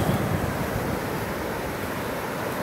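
Atlantic Ocean waves and foamy surf on the beach at North Myrtle Beach, South Carolina, a week after a hurricane: a steady, loud wash of breaking water with wind, with no pauses and no voices.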